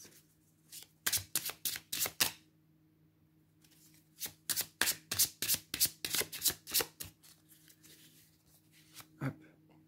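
Tarot cards shuffled and drawn by hand: two bursts of quick, crisp riffling and slapping, close and fairly loud, separated by a short pause and ending with a single soft card placement.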